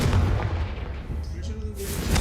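A fiery Confringo spell explosion in the Hogwarts Legacy video game, a short booming blast with crackling burst noise, overlapping faint game sounds.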